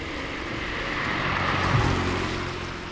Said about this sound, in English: The next time she hears a car, she pulls out her phone and turns on the light, waving it in the road at the approaching vehicle.